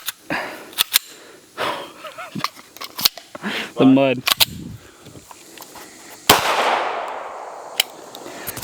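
Springfield Echelon pistol in a mud torture test, a few sharp shots and clacks of a tap-rack malfunction drill spaced across the clip, with people talking and swearing between them.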